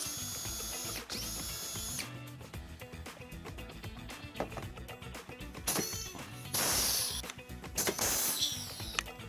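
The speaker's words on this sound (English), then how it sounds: "Use a 3/16 drill bit to drill out your holes," Power drill with a 3/16 bit boring holes through a 2019-2026 Subaru Forester bumper fascia, steady whirring runs broken by sharp high-pitched bursts as the bit bites through plastic, close and loud.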